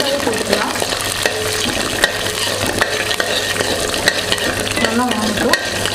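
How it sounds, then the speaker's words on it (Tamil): Whole shallots fry in hot oil for a Tamil-style fish curry, a steady close sizzle running throughout, broken by frequent scraping stirs of a spoon against the pan and occasional clinks of metal. "ஒரு கப் சின்ன வெங்காயம் போட்டுக்கலாம். முழுசாவே போட்டுக்கலாம்."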